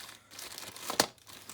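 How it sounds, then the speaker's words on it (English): Close crinkling and rustling of a cut-down plastic bread bag being handled while packing a cook kit, with one sharper crackle in the middle; no talk. "So anyway, so I put this in a plastic bag."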